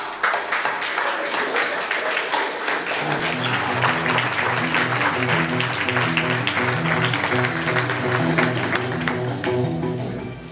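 Audience applause at a school theatre stage show, a dense, steady clapping that fills the whole stretch, with a low rhythmic tone running beneath from about three seconds on.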